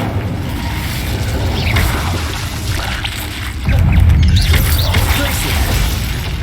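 The Incendio fire spell cast in Hogwarts Legacy: a loud, dense rushing roar that swells sharply partway through and holds steady to the end.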